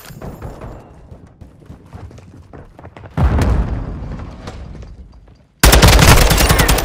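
Gunfire in Call of Duty: Modern Warfare II, with rapid automatic bursts that loudly crack and rattle in close succession, a denser heavier volley midway and a sharp loud burst near the end.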